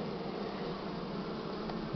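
Dense, steady buzzing of many honeybees packed close together inside a hive, a continuous low hum with no voices.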